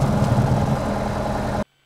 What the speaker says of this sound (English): now that our engine started